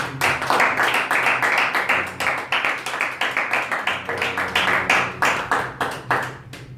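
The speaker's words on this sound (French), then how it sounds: "Acclamons le Seigneur parce qu'il est là." A church congregation claps to acclaim the Lord at the end of a French-language worship service, loud rhythmic unison claps in a steady beat that carries on for several seconds before thinning out.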